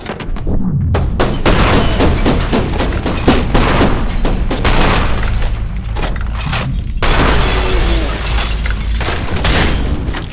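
Shotgun blasts and explosive booms from the first-person shooter F.E.A.R. 2: Project Origin, firing loud, dense and continuous throughout with heavy low-end thuds and sharp cracks, no speech.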